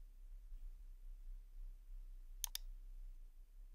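A computer mouse gives a quick double click, two sharp, close taps in rapid succession against a quiet background with a low steady hum.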